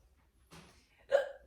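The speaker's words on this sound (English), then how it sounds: "Excuse me, that was a burp. I do a burp hiccup thing." A soft throat sound, a small burp followed by a sharper hiccup-like gulp, comes from a person sitting during a yoga session, brief and close in a quiet room.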